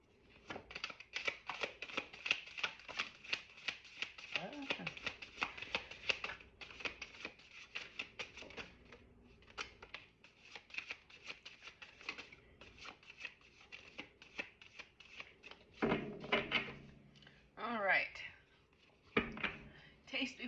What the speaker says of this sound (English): I'm going to pull a few oracle cards for some daily focus